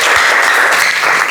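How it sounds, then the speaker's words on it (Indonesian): Steady, dense clapping from a group of students in a classroom, loud and continuous throughout with no voices on top. "tepuk tangan untuk semuanya"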